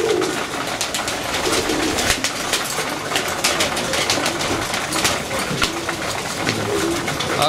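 Pigeons pecking at pellet feed and cooing, a busy close-up mix of repeated soft coos over constant pecking and scratching.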